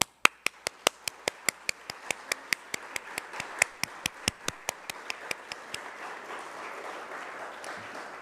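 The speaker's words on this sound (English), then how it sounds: "Claps for them." Audience applause after a presentation at an English-teaching event: a run of sharp, evenly spaced loud claps over a softer, growing wash of clapping from the crowd, fading slightly toward the end.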